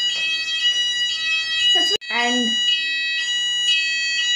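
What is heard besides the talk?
apartment building fire alarm ringing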